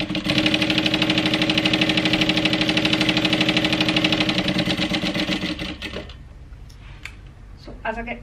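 A sewing machine stitches steadily around a box on a handbag at a 2.5 stitch length, humming in a fast, even mechanical rhythm before it slows and stops. Faint clicks follow.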